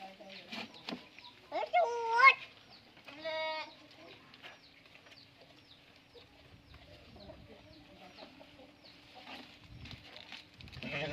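Goats bleating at feeding time in a village yard: a couple of wavering, nasal calls early on, followed by quieter yard sounds and faint talk.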